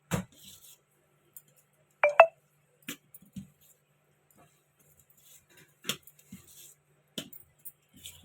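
A spoon mixes idli batter with onions in a steel bowl, giving a few sparse, light clinks and taps spread out over quiet pauses.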